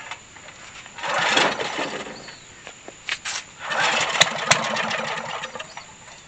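A generator that has sat unused for years is cranked and sputters toward running, with two rising bursts of engine noise and a brief gap between them.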